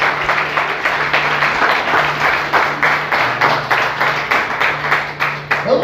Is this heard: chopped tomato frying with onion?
no